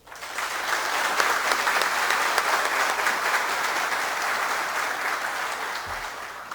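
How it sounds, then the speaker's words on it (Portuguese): An audience at a tourism forum in São Carlos applauds the city councillors, a dense, sustained clapping that starts abruptly and holds steady for several seconds before cutting off. "Eu gostaria de pedir uma salva de palmas aos vereadores."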